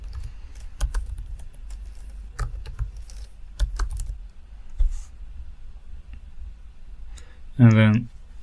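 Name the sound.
typing a website address on a computer keyboard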